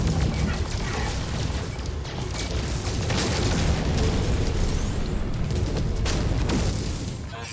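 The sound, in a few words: explosions in a freighter battle with pirate ships, video game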